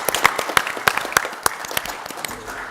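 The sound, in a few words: applause at city council meeting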